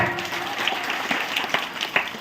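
Scattered clapping from a church congregation during a sermon, light and brief, spread across a couple of seconds with a few sharper claps standing out.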